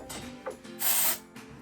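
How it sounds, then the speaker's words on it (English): A close hairspray aerosol hisses in a short burst onto parted hair, followed by a second brief spritz, amid light rustling and handling noises. "like parting my hair and just spraying in between"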